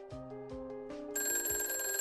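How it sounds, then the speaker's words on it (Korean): A telephone rings with rapid repeated bell pulses that give way to a sustained, brighter electronic ringing tone, clear and close in a quiet room. "전화가 울린다."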